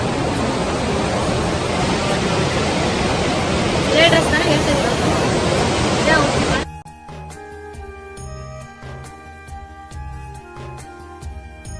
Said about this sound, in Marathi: तुम्ही पाण्याचा फ्लो बघू शकता किती आहे